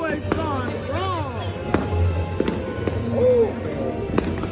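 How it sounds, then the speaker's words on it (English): Fireworks go off at an outdoor firework show, with several sharp, loud bangs scattered through steady crackling and whistling tones while people talk and shout nearby. "Oh, fireworks gone wrong."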